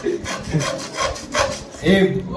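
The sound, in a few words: hand saw cutting wood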